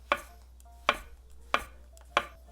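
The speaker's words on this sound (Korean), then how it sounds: "밑둥 이렇게 잘라내고요. 반으로 잘라서요." A knife slices through shiitake mushrooms on a cutting board, with the stems trimmed and the caps halved: four crisp, evenly spaced chops, close and clear.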